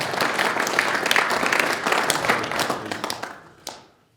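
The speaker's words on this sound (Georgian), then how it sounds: "აპლოდისმენტები მეგობრებო!" Applause from an audience at the GAMA Tale conference, a fight promotion event, with dense clapping that holds steady, thins out and then fades to quiet with a last few claps.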